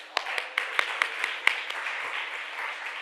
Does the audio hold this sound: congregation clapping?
yes